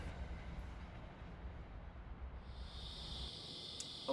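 New Jersey Transit and Norfolk Southern trains at Rutherford, heard as a steady low rumble of rolling rail cars with a high metallic squeal joining in toward the end, fairly distant and without voices.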